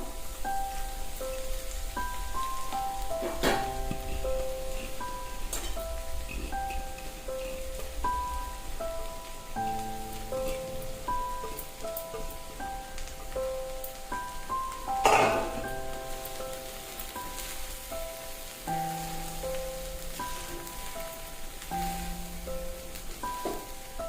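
Rice tipped into a pan and stirred for corn fried rice, with soft continuous sizzling and scraping and repeated clinks of a spoon against the pan throughout, and one louder clatter in the middle.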